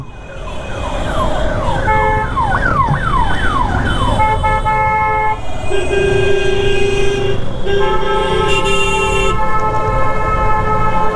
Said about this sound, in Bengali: হর্ন মেরেই যাও তুমি ভাই, তখন দিয়ে হর্ন মেরেই যাচ্ছে